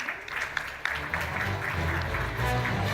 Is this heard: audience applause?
yes